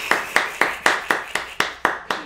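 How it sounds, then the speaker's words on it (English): Loud, slow, evenly spaced hand claps right next to the microphone on a podcast set, nine sharp close claps in a steady rhythm with no talk over them. "Sorry for the loud clapping, y'all."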